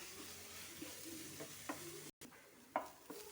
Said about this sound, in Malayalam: നമുക്കതിലേക്ക് ഇഞ്ചിയും വെളുത്തുള്ളിയും കൂടെ ചെറുതായിട്ട് അരിഞ്ഞത് ഇട്ട് കൊടുക്കാം. നല്ലതുപോലെ വഴറ്റിയെടുക്കാം.